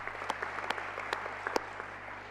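Applause from a convention audience in Paraguay greeting the mayor: a brief burst of scattered clapping with a few louder distinct claps, fairly faint and short.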